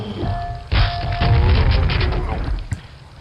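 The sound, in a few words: grenade explosions in the video game Quake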